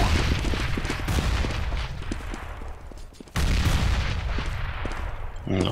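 Grenade blast amid gunfire in a CS:GO match, with dense crackling shots and booms, a brief dip, then a sudden loud burst of explosive noise and continued firing.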